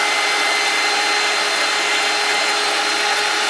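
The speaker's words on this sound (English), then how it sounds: "I'm going to go ahead and dry this with my little dryer" A small craft dryer or heat gun blows continuously while drying a floral business card tin, a steady loud airy whoosh with no talking.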